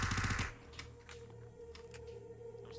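An SMG in VRChat fires a rapid, loud burst of about half a second, a fast rattling string of shots, then goes quiet except for faint clicks and low background hum.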